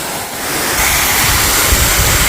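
Water from a small stairway waterfall among fountains in Funchal, Madeira pours in a steady, loud broadband rush heard from close underneath, swelling slightly after the first moment.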